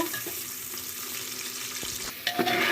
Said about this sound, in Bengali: দিয়ে দিলাম পেঁয়াজ কুচি, পেঁয়াজটাকে বাদামি কালার করে ভেজে নিব।